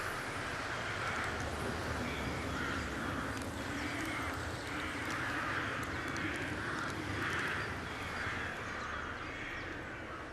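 Crows caw repeatedly in a wintry setting near bird feeders, harsh calls recurring in a steady rhythm over a constant wash of background noise.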